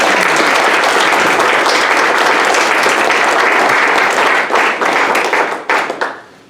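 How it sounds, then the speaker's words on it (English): A crowd at a community people's hearing in Johnson City gives loud, close applause that holds strong and then breaks up into scattered claps as it fades out. "Let's all give a warm round of applause for Patrick"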